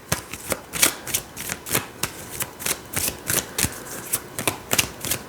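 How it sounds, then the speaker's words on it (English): A deck of oracle cards being shuffled by hand, a quick regular series of crisp riffling snaps repeating close by at moderate loudness. "I'm gonna pull some oracle cards."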